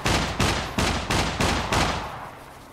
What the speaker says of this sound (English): Oh, no, he's shooting at me.